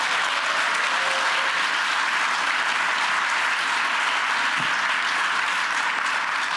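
Steady, dense applause from an audience at a New York Stock Exchange opening bell event for tax advisory firm Andersen Group, continuous clapping filling the room throughout without any talk.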